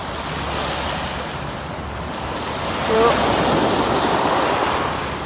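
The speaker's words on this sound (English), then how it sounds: "Just watch these waves coming in a minute." Waves wash in steadily onto the Thames foreshore, likely the wake from a passing boat, with a broad continuous surge and rush that swells a little louder partway through, mixed with wind noise and no talking.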